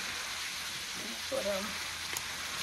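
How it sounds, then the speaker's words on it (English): Ground meat browning in a pan, a soft steady sizzle with faint crackles, a brief clink of a utensil partway through. "my meat start browning"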